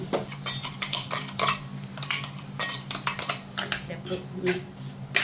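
Kerala sardine peera being stirred in a pan, with repeated clinks and scrapes of a utensil against the metal at a steady, uneven rhythm, close by, over a faint low hum.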